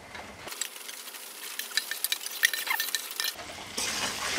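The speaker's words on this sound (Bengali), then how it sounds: "এখন আমি এর মধ্যে দিয়ে দিচ্ছি আগে থেকে কাঠখোলায় ভেজে রাখা আমার কচুর ফুলগুলো।" Fried arum flowers with onions and chili powder are stirred in a pan, a string of scraping and tapping spatula clicks over a light sizzle, close and fairly quiet.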